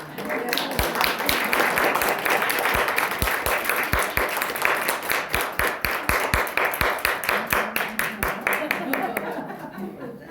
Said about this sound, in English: This is warm applause.